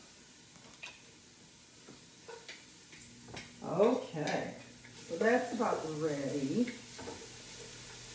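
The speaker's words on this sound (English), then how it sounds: "You can hear that sizzling," Soft sizzling of garlic frying in a pan for soup, with faint ticks and crackles, under someone speaking briefly nearby.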